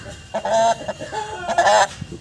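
A Bhimavaram rooster, offered for sale, gives two short bursts of close, loud clucking calls, the first near the start and the second toward the end, with no talk.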